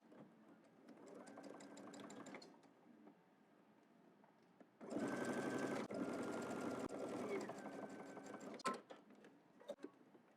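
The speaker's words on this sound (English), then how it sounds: "we're just going to edge stitch on the facing side, but very close to the seam" A sewing machine edge-stitches a dress facing close to the seam, running in two bursts of steady, close-up rapid whirring with a quiet pause between them.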